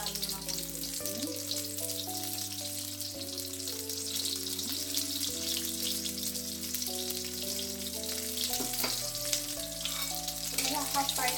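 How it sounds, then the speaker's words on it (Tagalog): Carrots frying in a wok with a little salt, a continuous crackling sizzle heard under background music, fairly close and steady throughout. "Kaya half fry lang natin yung ating carrots."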